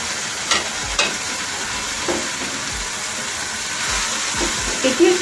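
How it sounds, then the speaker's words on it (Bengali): Fried mourala fish is stirred into an onion-heavy dopiaza in a pan, giving a steady sizzle with soft, intermittent scraping strokes of the spoon throughout. "তারপরে এর মধ্যে মিশিয়ে দেবো আমি মোরলা মাছ, যেটি আমি ছাকা তেলে ভেজে রেখেছিলাম।"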